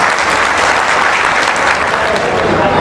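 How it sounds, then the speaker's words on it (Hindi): Dense, loud audience applause at a Rashtra Raksha Divas gathering, a continuous wash of many hands clapping close by with no pause. "कृपया सभी ताली बजा के"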